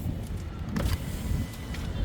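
The driver-side power window on a 2016 Maruti Brezza ZDi diesel runs briefly, giving a faint low motor hum with a light glassy slide inside the car, heard alone.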